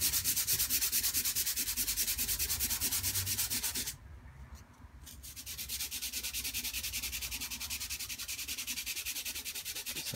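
Sandpaper rubs watercolour paint back into a gesso surface in quick, steady, rhythmic strokes, close and fairly soft. The rubbing pauses briefly partway through, then resumes.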